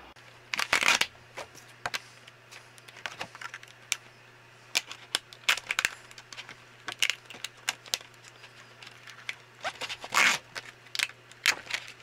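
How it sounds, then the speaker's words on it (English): A sticker book cover is torn away in a string of sharp, crackly paper rips and scrapes, several longer tearing bursts among short irregular snaps, close up over a faint steady hum. "I'm just going to rip off this cover and replace it with this cover."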